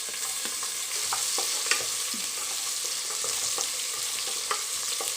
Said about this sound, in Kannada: ಈರುಳ್ಳಿ ಚೆನ್ನಾಗಿ ಫ್ರೈ ಆಯಿತು.